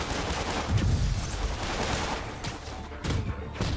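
Rapid video-game gunfire from enemies shooting at Spider-Man during a fight, a dense, continuous rattle of shots filling the whole stretch with brief louder bursts near the end.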